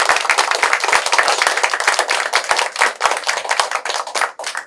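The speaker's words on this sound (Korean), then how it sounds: "김박 회장님 큰 박수!" A room full of people claps hard in honour of a chairman during an award-acceptance speech at a youth essay contest ceremony, with dense, loud, rapid hand claps filling the space continuously and sharp individual slaps standing out.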